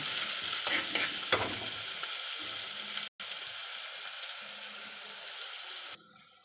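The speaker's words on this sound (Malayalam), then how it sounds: "ഇത്രയും കൂടി ഇട്ട് ഇതിൻ്റെ പച്ചമണം മാറുന്നിടം വരെ നന്നായിട്ടൊന്ന് വഴറ്റിയെടുക്കാം" Ginger, garlic, green chilli and shallots sautéing in a pan for a Kerala-style spicy sardine curry: steady close sizzle with a few stirring scrapes early on and a brief cutoff midway.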